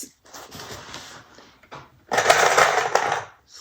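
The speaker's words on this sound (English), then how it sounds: "we're going to sew the sides and the bottom at 3/8" Sewing machine stitching the sides and bottom of a fabric bag, a short quieter run of stitching, a pause, then a louder steady burst of machine running close by.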